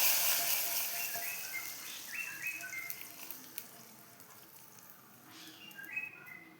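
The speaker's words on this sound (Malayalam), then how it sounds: "ഒരല്പം മുളക് പൊടിയും കൂടി ചേർത്തൊന്ന് മൂപ്പിക്കാവേ." Chili powder sizzles and roasts in a hot pan for a mango curry, giving a steady soft frying hiss with bird chirps scattered over it.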